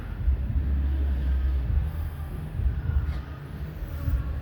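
Model railroad layout at a hobby show, with a small train running on its tracks: a steady low rumble and clatter that pulses slightly and stays moderately close, with no talk.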